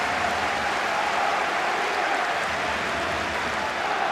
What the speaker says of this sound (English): the crowd really warming to this performance by Romania